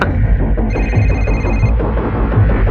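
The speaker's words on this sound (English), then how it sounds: "all of a sudden this mobile phone starts ringing" A loud electronic mobile phone ringtone chirps over a dense, rumbling crowd murmur in a prison, the tone rising briefly before the ringing fades back into the noise.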